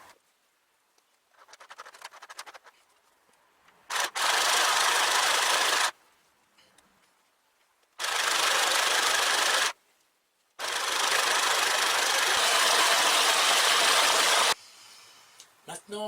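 A sewing machine stitches a reinforcement patch onto a fleece sweater in three loud, steady bursts of whirring separated by quiet pauses.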